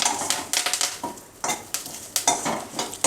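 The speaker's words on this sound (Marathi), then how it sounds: "कडक होईपर्यंत भाजून घ्या कढीपत्ता." Curry leaves roast in a pan for a crisp poha chivda, with a spatula scraping and tossing them in quick irregular strokes over a dry crackle, close and fairly loud, with no voices.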